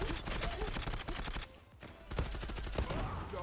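Repeated automatic gunfire in the online shooter Zula, loud rapid bursts that drop out briefly midway and then resume just as dense, close and continuous.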